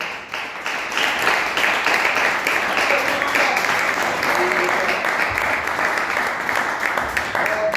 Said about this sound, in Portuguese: exalta o nome do Senhor com palmas